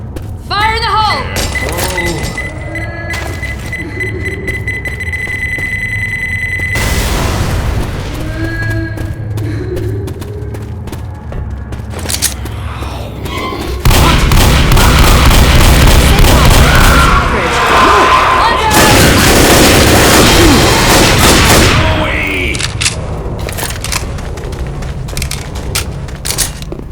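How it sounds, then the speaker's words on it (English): Pipe bomb explosion in Left 4 Dead at a construction site, a loud broadband blast and crashing roar lasting several seconds mid-clip, with shouting players and game noise around it. "There's a pipe bomb here."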